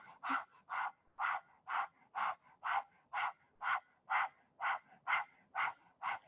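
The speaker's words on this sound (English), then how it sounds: "we're going to do that panting breath with your tongue out" Rhythmic panting breath done with the tongue out during an Anusara yoga class, about fourteen even, breathy puffs at a steady quick pace, close and clear with no talking.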